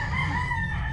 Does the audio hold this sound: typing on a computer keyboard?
no